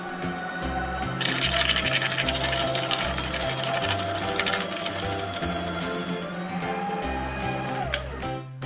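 An office paper shredder cuts documents with a loud whirring motor that pulses on and off, its grinding blades chattering as paper feeds through, then winding down at the end.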